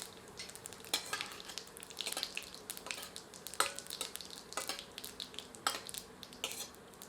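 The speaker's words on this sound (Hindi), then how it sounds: "अब इसमें आधा टीस्पून जीरा सम्मिलित करते हैं और इसे भी कुछ क्षण भून लेते हैं" Cumin seeds with cloves, cardamom and pepper fry in oil for a restaurant-style Mughlai paneer curry, giving a soft, steady sizzle broken by sharp clicks of a spoon stirring against the pan.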